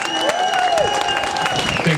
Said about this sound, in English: I'd really like to put your hands together and thank Simon for his absolute generous ho